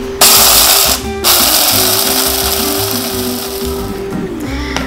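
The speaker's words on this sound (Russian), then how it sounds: "В общем, измельчу кофе." An electric coffee grinder whirs loudly as it grinds coffee beans for espresso, a steady motor drone that dips briefly near the one-second mark and runs on without any talking.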